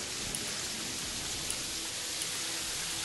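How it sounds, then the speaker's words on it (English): Steady rain falling in the Terraria video game, a continuous even hiss of downpour with faint scattered drops, constant in level and heard alone without voices. "It's raining!"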